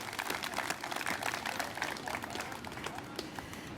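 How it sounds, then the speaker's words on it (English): Crowd applause at an outdoor bicentennial parade awards announcement, a dense, steady wash of clapping held at even loudness throughout, with a faint murmur mixed in. "Let's give them a round of applause"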